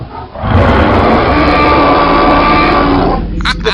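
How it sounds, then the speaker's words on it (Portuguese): A woman roars into a microphone to create creature sounds for the video game Dino Wars. The sustained, loud, raspy roar swells and holds for about three seconds, then breaks off. "pediu pra esposa dele ficar rugindo pro microfone"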